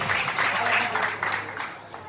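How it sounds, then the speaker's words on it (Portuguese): A church congregation at an evangelical crusade applauds while a loud voice carries over the clapping, the applause fading slightly toward the end. "dê a melhor salva de palmas ao Espírito Santo"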